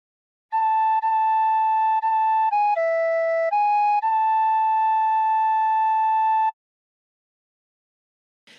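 A tin whistle plays a short House of the Rising Sun phrase: steady held notes with a few quick changes and one lower dip, clear and alone for about six seconds before stopping.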